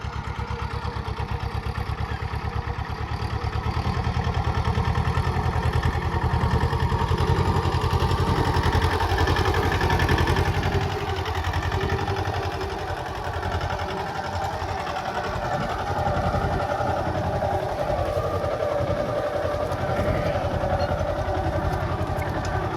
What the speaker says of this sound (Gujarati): મિની ટ્રેક્ટર દ્વારા કેવું વાવેતર કરી રહ્યું છે